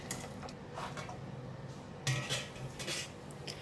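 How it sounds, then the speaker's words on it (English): Cooked red beans are scooped from a metal pot into a strainer in a home kitchen, giving faint clinks and scrapes of utensils on cookware and a few sharper knocks near the end, with no speech. "Take them off from the pot. Put them in the strainer."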